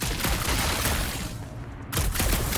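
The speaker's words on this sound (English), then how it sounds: "Just making sure my guns work." Bursts of gunfire from ship guns in Guardians of the Galaxy, a rapid, loud fusillade of shots that pauses briefly, then resumes, heard alone without talk.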